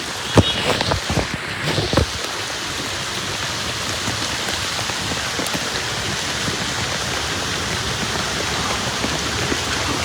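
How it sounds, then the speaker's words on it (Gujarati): Heavy rain pours down steadily in Dwarka, a dense, loud, unbroken hiss of water on surfaces lasting throughout, with a few sharper knocks and splashes near the start. "સખત વરસાદ દ્વારકાની અંદર"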